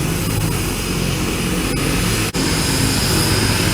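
Steady, loud drone of a propeller airplane engine heard from close by, constant throughout with no voices and only a brief dip in the noise near the middle.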